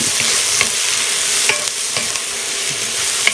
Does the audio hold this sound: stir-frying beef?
yes